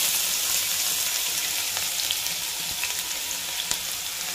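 Two finely chopped medium onions fry in oil with a pinch of asafoetida, browning in a steady close hiss with a few faint clicks.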